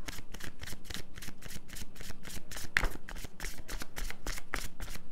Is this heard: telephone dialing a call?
no